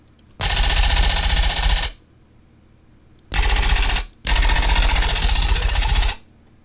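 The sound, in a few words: machine gun synth bass preset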